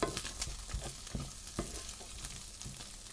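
Soft frying sizzle of chopped walnuts and spices roasting in a pan, with repeated scraping and stirring taps, quiet and close, no voices.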